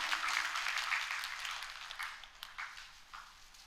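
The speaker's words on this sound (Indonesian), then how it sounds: "Beri tepuk tangan bagi Allah kita." A church congregation at a Sunday service claps steadily, then the applause thins to scattered claps as it dies away.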